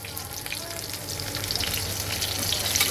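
Pieces of pointed gourd (potol), lightly salted, fry in a pan of oil for a vegetarian potato and potol curry. A steady, close hiss of sizzling holds throughout and grows slightly louder toward the end, with no talking.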